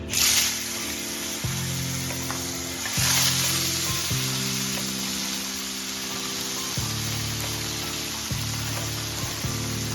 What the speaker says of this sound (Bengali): এবার পনিরটাকে আমি ভাজবো